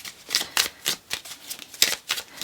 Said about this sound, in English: I'm going to continue on with my shuffle